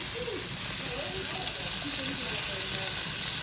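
Chicken breasts sizzle steadily in a frying pan while cooking until golden and crispy, a continuous hiss running throughout, with a voice talking over it at moments.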